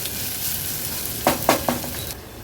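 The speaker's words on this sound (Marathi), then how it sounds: "गॅसची फ्लेम लो करून कांदा व्यवस्थित आपल्याला शिजवून घ्यायचा आहे" Onion with crushed ginger and garlic fries steadily on a cumin tempering over low flame, a constant close sizzle with three quick stirring scrapes near the end.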